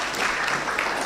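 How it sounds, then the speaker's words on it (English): Audience clapping at a data protection certificate graduation ceremony, a dense, even patter of many hands lasting about a second without speech. "Let's clap for her again."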